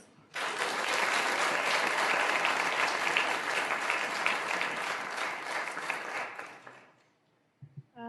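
An audience at a Youth of the Year 2024 ceremony breaks into loud, sustained applause to welcome a speaker. The clapping holds steady for several seconds, then fades out, and a brief voice follows at the end.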